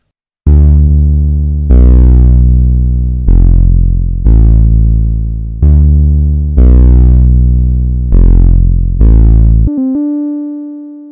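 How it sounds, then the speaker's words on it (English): A synth bass in a game jam project plays a slow run of about eight loud, sustained, buzzy low notes. It ends with a short pitch wobble and a brief higher tone, with no voices. "I like the sound of this bass."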